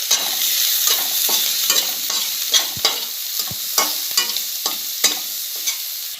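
A spoon stirs onions and chillies frying in oil in a cooking pan for a sandwich filling, giving steady sizzling under a regular series of close scraping strokes and light taps against the metal.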